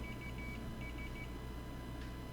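A multimeter gives continuity beeps while probing a trace on an iPhone 7 home button repair. Two short, faint, high tones sound one after the other over a quiet background hum.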